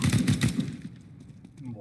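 Gunfire in a bomb-defusal video game comes as a quick rapid burst of shots up front, then fades to quieter scattered sounds with a voice talking underneath.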